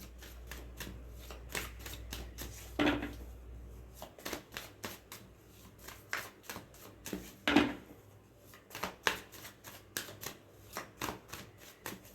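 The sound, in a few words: shuffling reading cards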